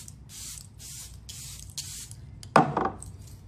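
Makeup setting spray misted from a pump bottle: several short soft hissing bursts in a row, then one sharper, louder spritz near the end, quiet and close with no talking.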